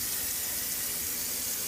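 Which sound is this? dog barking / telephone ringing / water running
water running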